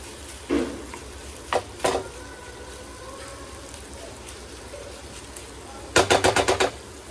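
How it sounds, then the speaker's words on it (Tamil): Masala for sweet and tangy garlic chicken fries in a pan under a low sizzle, with a few sharp spoon scrapes and clinks against the pan and a quick rattling burst of stirring near the end. "இப்போ அந்த மசாலாவோட வாசம் போகிற வரைக்கும் நல்லா ஃப்ரை பண்ணுங்க."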